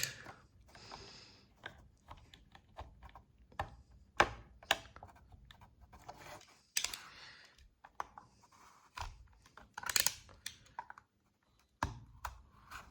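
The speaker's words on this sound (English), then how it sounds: "let's cut through the package and see how does this particular casting of Tesla Cybertruck looks" Plastic packaging around a Hot Wheels Tesla Cybertruck die-cast toy being cut open, giving a scatter of sharp clicks, snips and rustles at close range, irregular and spaced out, with no talking.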